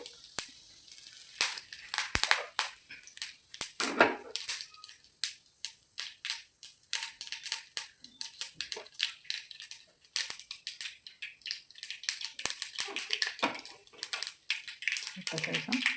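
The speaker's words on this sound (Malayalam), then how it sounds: "ചീനച്ചട്ടി നമ്മൾ അടുപ്പത്ത് വെച്ച് അതിലേക്ക് കുറച്ച് വെളിച്ചെണ്ണ ഒഴിച്ചു. ഇനി തിരി താത്തി വെച്ചിട്ട് കുറച്ച് കടുക്," Mustard seeds and dried chili spluttering in hot coconut oil in a pan, a dense run of sharp crackles and pops that stays busy and close throughout, with some voices in the background.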